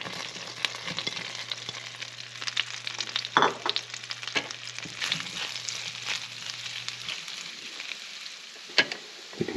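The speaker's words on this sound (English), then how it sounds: "we're going to take our chanterelle mushrooms, and then we're going to saute them up in a little bit of butter" Chanterelle mushrooms sizzle and fry steadily in butter in a pan, a close continuous crackle broken by a few soft stirring scrapes.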